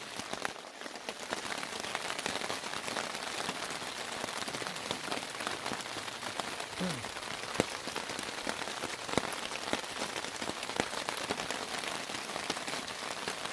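Steady rain patters continuously on a surface, a dense even hiss with scattered louder drops throughout.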